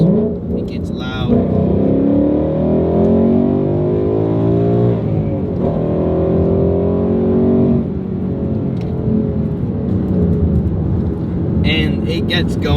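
Ford Mustang GT V8 rated at 460 horsepower, revving loud and steady as it pulls through a couple of gear changes, with engine pitch rising and dropping while a person talks over it.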